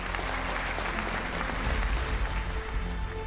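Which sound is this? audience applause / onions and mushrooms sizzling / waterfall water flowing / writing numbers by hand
audience applause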